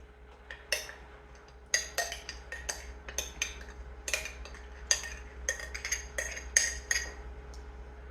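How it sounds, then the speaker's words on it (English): A metal spoon scoops canned beans out of a jar for crockpot chili, making a quick, irregular run of close clinks and scrapes against the container, about a dozen taps over a low steady hum, with no talking. "That way I can use the garlic spoon to get the beans out."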